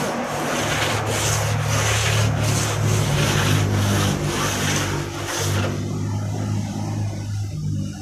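Hand sanding of a fiberglass wall moulding mould, a steady close scraping rub with repeated strokes over a low background hum, easing off near the end.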